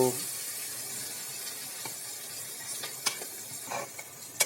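Chopped onions, tomato and green chillies hit hot oil in a pan for dal, giving a soft continuous sizzle with a few sharp clicks and stirring scrapes near the end, fairly quiet and close.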